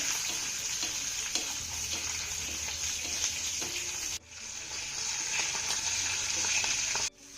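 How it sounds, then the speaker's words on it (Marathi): Sesame seeds and green chillies with a little salt sauté in a tempering of oil, a soft, steady sizzle with light stirring, briefly cut off and then resuming. "आता ही फोडणी आपल्याला चांगली परतून घ्यायची आहे"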